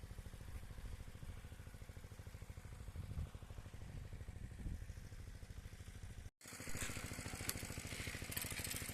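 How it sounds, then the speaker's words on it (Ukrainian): Walk-behind tractor (motoblock) with a tiller working the ground, a steady close engine drone with rhythmic mechanical chatter that briefly cuts out and resumes louder. "Ярик передіскував ще раз траву і робить мотоблоком, фрезою ще раз переробляє"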